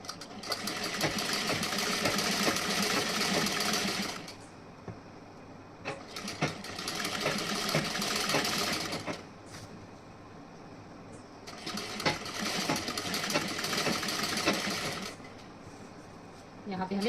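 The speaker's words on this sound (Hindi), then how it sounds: "यहाँ पे मैं डबल सिलाई करूँगी इस पे।" Sewing machine running double stitching on a princess-cut blouse, three sustained bursts of rapid whirring separated by short pauses, close and steady, with brief handling noise between runs.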